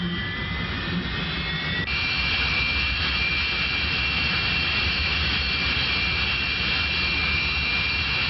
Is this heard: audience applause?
no